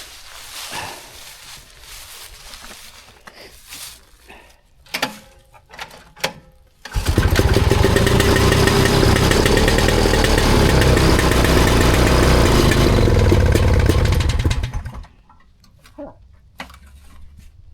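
A vintage snowmobile engine, freshly fitted with a new spark plug and spitting a lot of fuel, fires up and runs loud and steady for about eight seconds, then cuts out, with quieter handling noises before and after.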